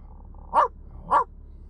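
A man imitates a barking dog with his voice, giving two short, loud woofs about half a second apart, alone against a quiet background.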